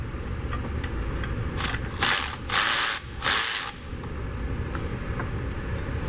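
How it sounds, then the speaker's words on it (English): A hand ratchet backs out transmission line bolts on a Mercedes S63 AMG W222 with its 5.5L engine, giving three loud, close bursts of rapid clicking over steady low background hum. "Let's go ahead and remove these transmission line bolts."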